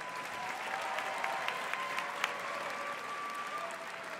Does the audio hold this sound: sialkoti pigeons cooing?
no